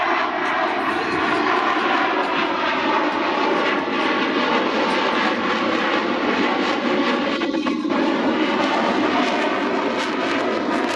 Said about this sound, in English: the fly-by-wire flight controls provide the slow speed handling that sets the Super Hornet apart in the air-to-air arena